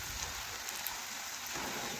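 Lentil fritters (bora) fry in a little oil. A dense, steady crackling sizzle fills the whole span, close and loud, with no voices.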